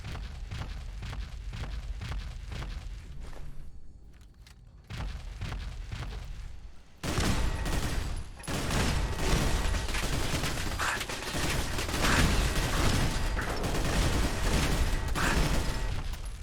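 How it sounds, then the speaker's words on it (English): Sustained heavy gunfire from hacked terminal-controlled turrets in modded Fallout 4, rapid rattling bursts that drop briefly and then surge into a louder, denser barrage lasting many seconds. "So much volume of fire from those terminals that I was actually physically pushed back for a second."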